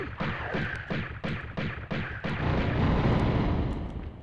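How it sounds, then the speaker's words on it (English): A rapid series of explosions from the 1996 PS1 game Tomb Raider, about seven sharp blasts in quick rhythm that merge into a sustained, loud rumbling roar. "now actually they will start exploding"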